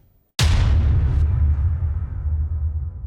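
A single heavy booming impact hits suddenly, followed by a deep rumbling decay that lingers and slowly fades, like a big explosion-style hit effect.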